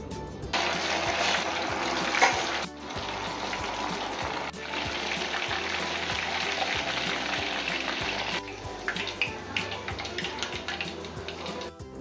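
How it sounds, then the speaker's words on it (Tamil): Boneless chicken pieces deep-fry in hot oil for dhaba-style chilli chicken, making a dense, loud, continuous bubbling sizzle that drops briefly at a couple of moments and then resumes. "எண்ணெய் நல்லா சூடானோன்னே சிக்கனை ஆட் பண்ணி அதை பொறிச்சு தனியாக எடுத்து வச்சுக்கணும்"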